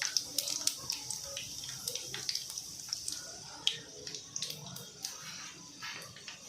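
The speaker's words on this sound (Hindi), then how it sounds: "बर्तन ये पानी डालेंगे फ्रेंड्स, जिससे कि हमारे राइस परफेक्ट बनेंगे।" Water poured into a cooking pot while making Pune-style chicken daalcha rice, with faint splashing and dripping, scattered pattering bursts at low level and no talk.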